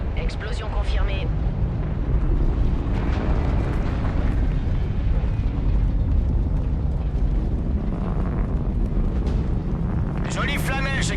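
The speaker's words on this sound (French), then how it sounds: "Explosion confirmée." A large explosion in the video game Call of Duty Infinite Warfare rumbles and roars loudly for the whole stretch, with a windy, crackling tail and some scattered game effects mixed in.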